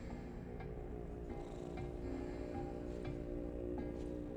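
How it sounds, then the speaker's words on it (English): Soft, steady purring from cats in the video game Control: AWE runs under faint ticking and rustling ambience in a dark place, quiet and continuous throughout. "I'm hearing purring."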